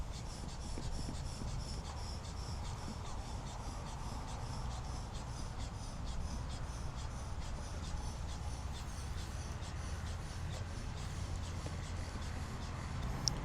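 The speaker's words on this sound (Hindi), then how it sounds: "अब इसके अंदर जो है इसको हम इन्फ्लेट करते हैं" Steady, rhythmic hissing puffs of air pumped into an inflatable motorcycle crash bar bag for a CFMOTO 450MT, a soft, continuous series of close, quiet strokes with no talking.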